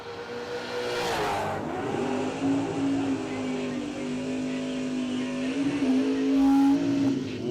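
A Mustang drag car launches at a drag strip, its engine holding a loud, sustained roar that climbs in pitch over several seconds, with some voice activity over the noise.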